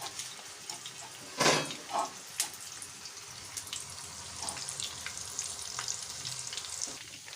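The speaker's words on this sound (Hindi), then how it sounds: "तमाम पीसेस जो हैं उनको मसाला लगा के तो हम इनको ऑयल के अंदर डालेंगे।" Masala-coated chicken lollipop wings going into hot oil, a brief loud splash and burst of bubbling followed by a continuous crackling deep-fry sizzle.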